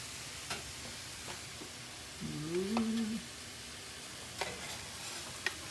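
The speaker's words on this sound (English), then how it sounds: "those onions will kind of fry up in that residual fat" Chopped onions frying in residual fat with browned lean ground beef for chili, a soft steady sizzle with occasional stirring clicks, near and fairly quiet.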